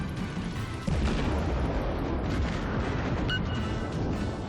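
Naval gunfire in World of Warships, a deep rumbling boom that swells sharply about a second in and then rolls on as a dense low roar, with no talk over it.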